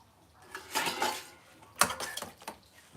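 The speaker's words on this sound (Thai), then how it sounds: "มาล้างถ้วยล้างจาน" Cups and dishes clink and rattle in a few quick clusters while being washed behind a rural house, with ceramic and metal clatter close by and no talking.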